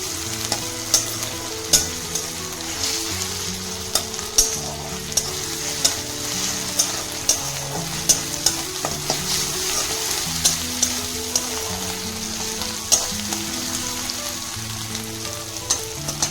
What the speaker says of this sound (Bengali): দিয়ে আরেকটু আমি নেড়ে নেব যতক্ষণ আদা রসুন বাটা কাঁচা গন্ধটা চলে যায়